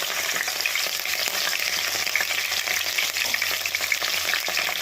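Green chilies and curry leaves sizzle in hot oil as a tempering for an ivy gourd and coconut curry. The frying crackle is loud, close and constant throughout, with no voices.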